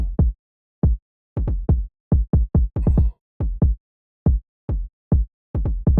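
Punchy kick drum hits in a busier pattern, with doubled kicks adding bounce, plus a brief lighter hit midway; no voices.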